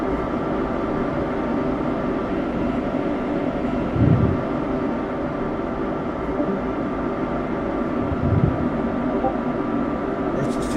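A simulated NYC Subway R142A on the Bronx-bound 6 local line in the OpenBVE train game drones with a steady motor hum and rumble, with a couple of brief thumps, under faint voices.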